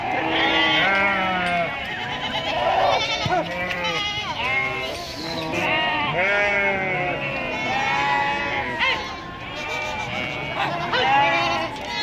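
Goats bleat repeatedly throughout a busy livestock market in Deonar, with many overlapping calls near and far under steady crowd chatter and talk.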